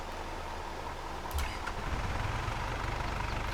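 A Fendt tractor engine idles in Farming Simulator 22, a steady low rumble that deepens and thickens partway through, with a brief knock at the change, heard up close with no talk.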